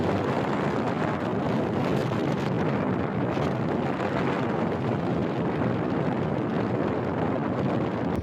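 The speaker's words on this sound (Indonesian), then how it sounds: "Angin kencang bertiup di atas jembatan Suramadu, Bangkalan, Jawa Timur." Strong sea wind gusts over the Suramadu bridge at Bangkalan, East Java, a dense, roaring rush buffeting the microphone without letup.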